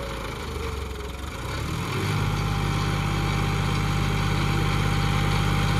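John Deere 5210 tractor pulling two harrows, its diesel engine running loud and close in a steady drone that settles into an even, throbbing idle-like rumble after a brief shift.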